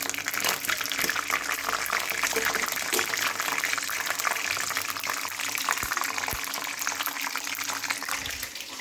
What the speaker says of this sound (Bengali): আমি হালকা করে আগে বাদামটা ভেজে উঠিয়ে রাখবো